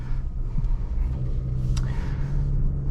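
A 2026 Infiniti QX60 Sport with the 4-cylinder VC Turbo engine cruises along, giving a steady, low cabin rumble of engine and road noise that stays even throughout, with no one speaking.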